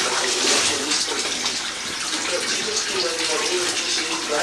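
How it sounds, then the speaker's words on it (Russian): A tap runs steadily into a bathtub that is filling up at home during washing, making a continuous loud rush and splash with no break for the whole stretch. "Выключи воду, сейчас будет через край."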